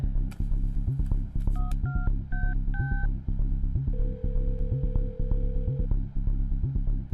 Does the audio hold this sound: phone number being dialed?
yes